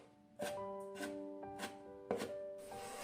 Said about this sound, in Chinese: 胡萝卜丝同样挤干水分后给它切一下